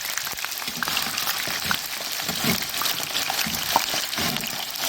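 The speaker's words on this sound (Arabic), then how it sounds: "احنا مش هنحمرها قوي، احنا هنخليها اللون الذهبي ونخرج على طول" Food frying in hot oil until golden, a continuous crackling, bubbling sizzle at moderate level with scattered pops.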